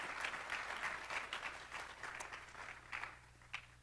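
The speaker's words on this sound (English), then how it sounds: "Let's give them all a big round of applause." A room full of people applauding steadily at a high school student awards ceremony, dense overlapping claps that stay even for a few seconds before thinning slightly, with no voices.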